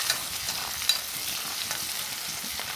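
Dried red chillies fry in oil with a continuous soft sizzle and a few light stirring taps, fairly quiet and close, with no talking.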